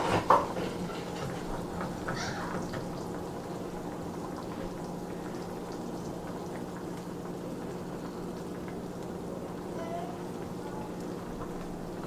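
A pot of lima beans bubbles steadily at a rolling boil, a soft continuous simmering hiss with a faint clink at the start.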